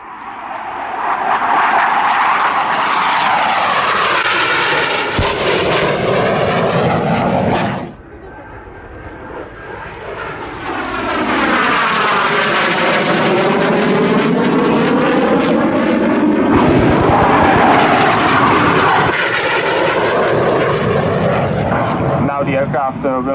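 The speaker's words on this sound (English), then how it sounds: "Left side display two-ship formation of the Alka." A two-ship aircraft formation flies a display at the Yeovilton Air Day airshow, a loud roaring engine sweep that passes, dips, then surges again with rising and falling pitch, while a commentator talks over it.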